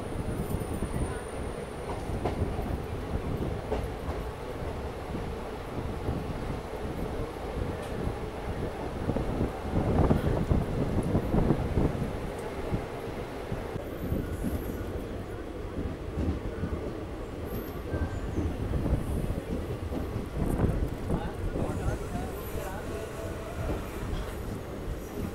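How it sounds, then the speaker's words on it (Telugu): Ratnachal Superfast Express, a passenger train, rolling steadily after leaving Annavaram station, with a continuous rumble of wheels and carriage noise and occasional rail clatter throughout, recorded from on board. "Ratnachal super fast express."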